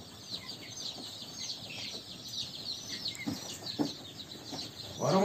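Young meat chicks and chickens at a poultry seller peep and cluck in a steady chorus of faint, high chirps, with a louder burst of clucking at the end.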